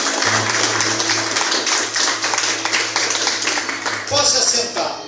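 A church congregation claps together for Jesus, a dense steady wash of hands lasting several seconds, with a sustained tone and voices mixed underneath.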